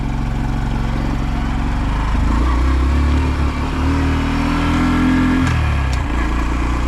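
A 2025 Honda Dax 125 motorcycle pulls away in first gear, its small engine droning steadily and close, rising in pitch and then dropping as it eases off.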